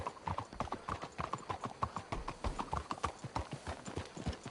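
Several horses' hooves clip-clop on a path in the western video game Red Dead Redemption 2, a brisk irregular clatter of many overlapping steps, moderately loud with no talk over it.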